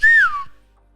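A single short, clear whistle, a bright note that rises slightly then slides downward before fading, heard alone.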